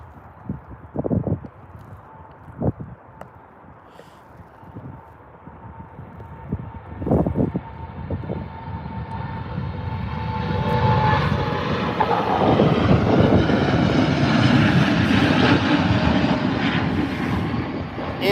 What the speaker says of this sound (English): We've got the big boy, the 787-9 on its way.